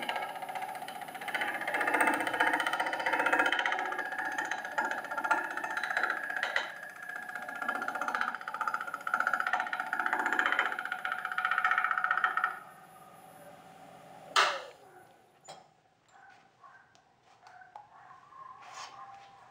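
A wood lathe spins a kuksa cup blank as a gouge makes a bevel-riding cut, giving a steady broadband hiss and rumble that stops abruptly, followed by a sharp knock and then faint scattered tool noises.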